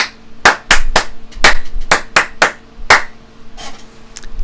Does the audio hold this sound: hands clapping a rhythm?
yes